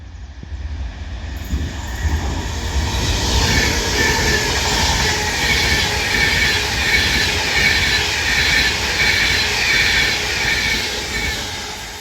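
An Avanti West Coast passenger train, a Manchester Piccadilly to London Euston service, passes through Stone station on the West Coast Main Line. It makes a loud, steady rumble with wheel and rail noise that fills the whole stretch, with no talk.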